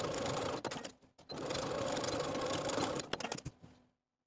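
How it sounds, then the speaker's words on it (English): Sewing machine running straight stitches back and forth to secure elastic inside a pants waistband, a close, steady mechanical whir in two bursts with a brief pause between, ending in a few quick clicks before stopping. "we're going to take it to the sewing machine and do a series of straight stitches back and forth to secure"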